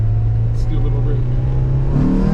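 A Honda Civic EG8 fitted with a swapped-in Type R engine, running on a non-VTEC DX ECU, revs loudly and close by, a steady low drone that climbs near the end.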